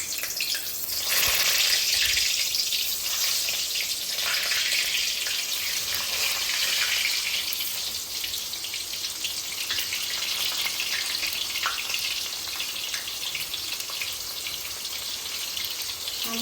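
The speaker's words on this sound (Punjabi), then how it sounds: "ਆਪਣਾ ਤੇਲ ਵੀ ਬਹੁਤ ਸੋਹਣਾ ਗਰਮ ਹੋ ਗਿਆ ਹੁਣ ਆਪਾਂ ਇੱਕ ਇੱਕ ਪੀਸ ਕਰਕੇ ਸਾਰੇ ਟਿੰਡੇ ਇੱਕ ਪਾ ਦੇਣੇ" Stuffed round gourds (tinda) frying in hot oil, a steady broadband sizzle that holds dense and even throughout, close and fairly loud, with no speech.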